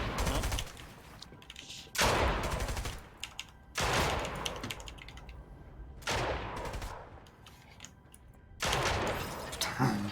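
Bursts of rapid video-game gunfire come in repeated loud volleys separated by short lulls, with a sharp crackle on each barrage and no talking over it.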